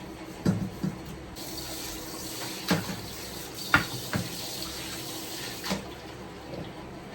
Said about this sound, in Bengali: গরম গরম করাই মাজা খুবই মুশকিল যাই হোক একটু তো হালকা মেজে নিই